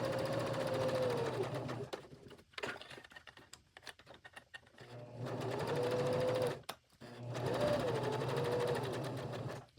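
A sewing machine runs a regular straight stitch around a US flag appliqué, its close, steady whirring coming in two long bursts with quieter pauses between.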